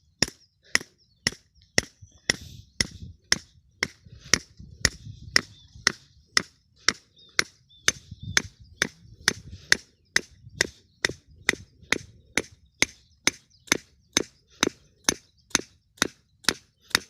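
Wooden stakes hammered into the ground to set a bird trap outdoors: a long, steady series of sharp, evenly spaced knocks, close and distinct, with faint rustling between strikes.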